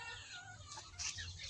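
Native country hens cluck in a small backyard flock: a close, lively run of short, throaty clucks with a few sharper calls rising near the end.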